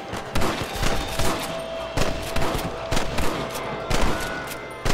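A Red Dead Redemption gunfight erupts in repeated loud gunshots, sharp cracks spaced irregularly through a chaotic, reverberant exchange, close and intense with no clear talking.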